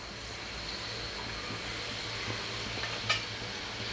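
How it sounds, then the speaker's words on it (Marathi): Chopped onion frying in hot oil as a tempering in a pan, a steady broad sizzle running through the whole stretch, with one brief clink of a utensil near the end. "समजा आपल्याला कांदा टाकून घ्यायचा फोडणीला."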